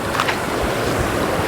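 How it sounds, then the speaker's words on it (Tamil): Floodwater rushes fast over the Manimutharu Dam spillway during heavy rain, giving a steady, loud, broad roar with no break or pause. "அங்கே பார்த்திங்கன்னா தெரியும் எந்த அளவுக்கு வேகமாக தண்ணி போகுது அப்படின்னு"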